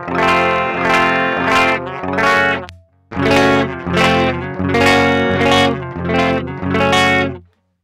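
Harsh distorted guitar chords through a Laney VH100R tube amp, recorded direct without cabinet simulation, ring out loud and fizzy in repeated strummed bursts, with a brief gap near the middle.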